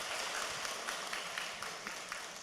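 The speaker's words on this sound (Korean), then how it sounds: "제가 박수 쳐 드리려고 했더니 알아서 박수가 나오네요." Church congregation applauding, a steady wash of many hands clapping, faint and distant, with a few individual claps standing out.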